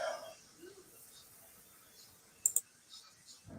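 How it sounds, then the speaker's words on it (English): Computer mouse or keyboard clicks picked up faintly over a phone or voice call line, a short sharp pair of clicks standing out mid-clip against quiet background hiss, with a few softer ticks afterward. "I can hear you clicking away."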